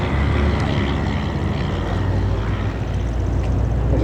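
A Piper L4 Cub propeller aircraft flies a display at an air show, its engine droning steadily and fairly loud over a constant broad wash of noise.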